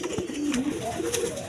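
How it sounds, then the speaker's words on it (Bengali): A pair of racer pigeons coos softly up close, low throaty calls rolling over steady background noise. "দর্শকবৃন্দ এইখানে এক পেয়ার রেসার কবুতর আছে"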